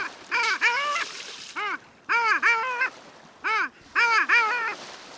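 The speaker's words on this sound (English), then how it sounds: "This winter, along either coast or on the Great Lakes, listen for long-tailed ducks." Male long-tailed ducks give nasal, yodeling calls in several clustered bursts, each a rising-falling series of honks separated by short pauses, fairly close and clear over a quiet background.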